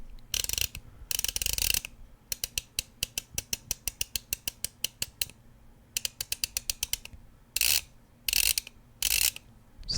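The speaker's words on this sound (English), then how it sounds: "I've never had a ratcheting screwdriver." A ratcheting screwdriver clicks in quick, even bursts of sharp ticks, broken up by a few louder rattling clatters, all close and without talk.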